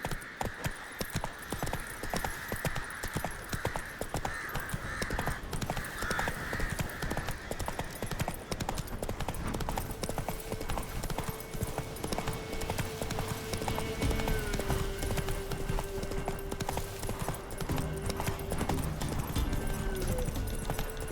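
Horse hooves gallop in a fast, continuous clip-clop rhythm through The Witcher 3, loud and steady throughout, with game music and ambience underneath.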